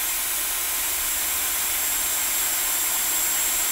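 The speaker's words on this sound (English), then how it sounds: "This is the Dyson." A Dyson hair dryer blows steadily nearby, producing an unbroken, airy hiss with a faint motor whine that stays at a constant level from start to finish, with no voices.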